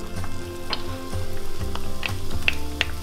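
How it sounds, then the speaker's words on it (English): Onions sauté in melted unsalted butter in a pan, making a continuous close sizzle with small crackles and occasional light ticks, steady and fairly loud, with no voices. "I'm gonna go ahead and saute our onions"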